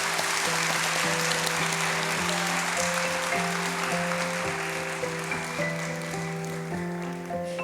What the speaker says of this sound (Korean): 환영의 박수 한번 부탁드립니다.